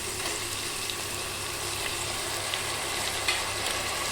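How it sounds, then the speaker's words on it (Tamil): Onions and tomatoes sauté in a pan for chicken varuval, making a soft, continuous close-up sizzle with faint stirring and no talk. "வெங்காயம் இந்த மாதிரி பாதி வதங்கின உடனே இது கூடவே வந்து தக்காளியும் சேர்த்து வதக்கிக்கணும்"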